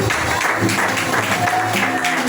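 A church congregation claps together after a scripture reading, producing a dense, steady wash of applause that holds evenly throughout without breaks.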